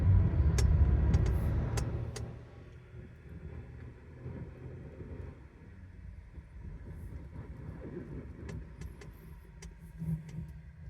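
A car passes on a road below an old cemetery, starting as a loud low rumble that fades within the first couple of seconds. Faint wind and quiet outdoor background follow.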